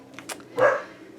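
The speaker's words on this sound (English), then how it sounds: "sorry about the dog barking" A dog gives a single short, moderately loud bark after faint background sounds, then the room goes quiet.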